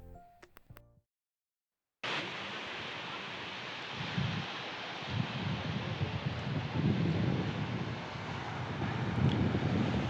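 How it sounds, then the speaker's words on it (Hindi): Cold morning wind blows hard across Kund Malir beach in Balochistan, a loud rushing roar buffeting the microphone over the continuous wash of waves, starting after a short quiet gap and swelling toward the end. "सुबह का वक्त, ठंडी ठंडी हवाएं और यहाँ की लहरों का शोर"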